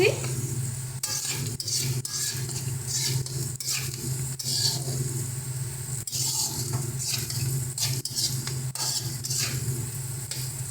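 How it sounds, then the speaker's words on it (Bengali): Vegetables are stir-fried with a little salt in a wok for homemade fried rice, with a continuous sizzle and repeated scraping and stirring strokes of a spatula close by. "লবণ দিয়ে ভালো মতন করে মিশিয়ে নিচ্ছি"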